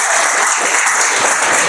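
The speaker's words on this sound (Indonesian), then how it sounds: "Tepuk tangan dulu." A class breaks into brief, loud applause, a dense crackle of many hands clapping at once, close and continuous through its short length with no talking over it.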